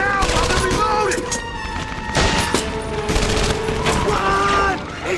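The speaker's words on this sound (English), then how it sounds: "There's an MG-42 guarding the square!" An MG-42 machine gun fires in bursts in the Medal of Honor Vanguard video game, a loud clattering fusillade layered over tonal music and battle noise.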